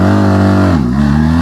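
An adventure motorcycle pulls away from a standstill under hard acceleration, its engine note steady, loud and close, then dipping briefly before climbing again as the revs rise.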